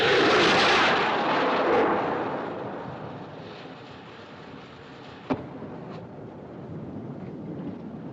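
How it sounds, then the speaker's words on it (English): Distress rocket launched from an ocean liner at night, a loud whooshing roar that fades into a wind-like hiss, followed by a single sharp crack and a lingering low rumble. "Looked like a rocket, sir."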